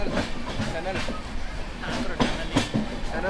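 A train rumbles steadily along the rails through dense forest near a tunnel, with rhythmic clattering and a soft hiss, and voices murmur in the background.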